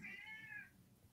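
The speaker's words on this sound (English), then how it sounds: "I think I hear your cat calling you." A cat gives a single short, clear meow, close by but fairly soft, against a quiet indoor background.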